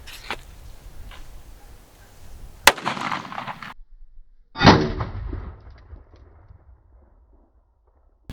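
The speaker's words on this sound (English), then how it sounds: "we're going to be shooting this with a 40 grain Fiocchi Vmax." Two sharp gunshots from a 5.7x28 firearm loaded with 40 grain Fiocchi V-Max rounds, the first a crisp crack and the second a louder, longer blast with echoing tail, separated by quieter outdoor background.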